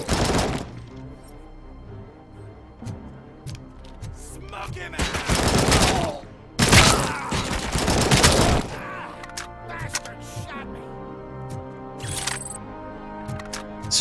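Bursts of gunfire ring out in the video game RoboCop: Rogue City, with dense volleys of shots crackling loudly in the middle and sporadic single shots around them over a steady game background.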